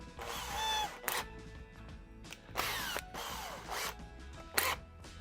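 A Makita drill spins a Framon tubular bypass tool in its chuck, giving several short whirring bursts with brief pauses between them, close up and fairly quiet, with no voices.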